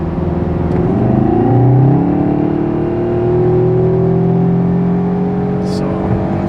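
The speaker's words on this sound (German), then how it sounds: "Jetzt können wir mal Gas geben hier." A Seat Leon Cupra R ST accelerates hard from the inside, its engine note rising steadily in pitch through the gears in a loud, smooth, continuous drone.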